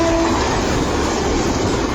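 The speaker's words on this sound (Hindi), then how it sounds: "तेज रफ्तार ट्रेन उसके ऊपर से भागती रही।" A fast train runs over railway tracks, a loud, steady rumble and roar that holds close and unbroken throughout.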